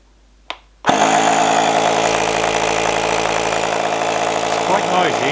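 A Wind Gallop U10 Ultra portable air pump clicks on and runs with a loud, steady motorized whir and buzzing hum, close up and continuous after a brief click and pause.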